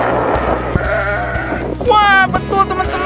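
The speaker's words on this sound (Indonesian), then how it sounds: "Wah, betul teman-teman, ini domba." Sheep bleating at a farm park petting area, a loud quavering cry rising clearly in the second half after a stretch of mixed background noise and nearby voices.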